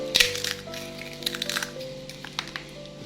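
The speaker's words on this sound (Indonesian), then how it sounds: "Coba kalian dengarkan dulu ya kriuknya" Crispy fried primadona snack cracking apart up close, with a loud initial crunch and then a scattering of smaller brittle snaps over a faint steady hum.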